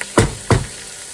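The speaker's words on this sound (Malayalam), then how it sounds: "ഇനി ഇതെല്ലാം കൂടെ ഒന്ന് നല്ലവണ്ണം വഴന്ന് വരട്ടെ" Chicken biryani masala sautéing in a pan, heard as two quick, loud stirring scrapes over a soft background sizzle, close up and with no talking.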